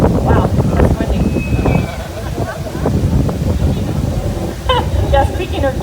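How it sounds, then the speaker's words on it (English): Gusty wind buffets the microphone with heavy low rumble outdoors in Old Town Albuquerque, while a person talks underneath and faint chirps come through near the end. "wow, that's windy"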